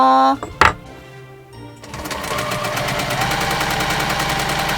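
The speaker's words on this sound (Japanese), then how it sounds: "ここ縫い代5ミリで長いの全部縫っていきますよ。" A sewing machine stitches a long fabric handle with a 5 mm seam allowance, running in a steady, fast, even rhythm up close. A brief voice and a sharp knock come just before it starts.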